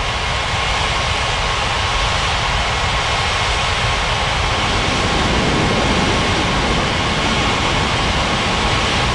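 Jet airliner engines roar in an air traffic control game at a tropical island airport, a loud, continuous broad rush that thickens and swells about halfway through, with no voices over it.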